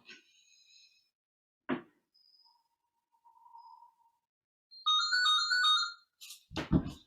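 A mobile phone rings during a yoga session, its bright electronic ringtone trilling in a repeated burst near the end, with a short thump and a few quieter tones before it.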